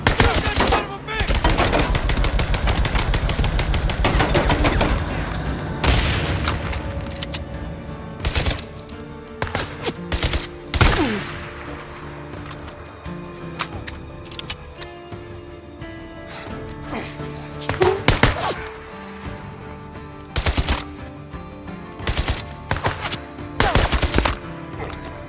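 Gunfire in the video game Days Gone, with dense rapid bursts and scattered single shots across the stretch, loud and close, mixed with shouting voices.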